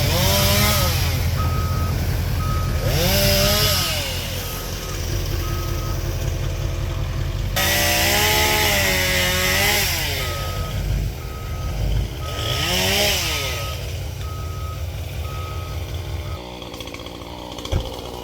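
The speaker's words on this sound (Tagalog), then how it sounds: "ililipat ni Kuya Mike yung kanyang dalang truck para easy na lang daw mag-load" A truck carrying loaded wood is moved into position, its steady reversing beeps pulsing over a loud, continuous engine drone, with a chainsaw-like whine rising and falling alongside, close by.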